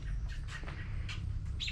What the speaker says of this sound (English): The birds keep you company.